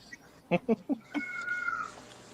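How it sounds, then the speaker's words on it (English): A cat gives several short, harsh meows in quick succession, close by, followed by a thin high-pitched sound that fades away. "the cat that was screaming in there"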